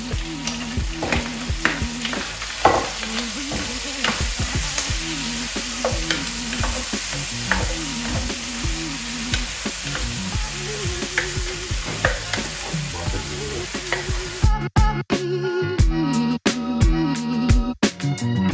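Onions fry with a loud, steady sizzle in a pan as they are stirred, repeated scraping strokes over the crackle, close and sustained, with a sharper burst of clatter near the end and no voices.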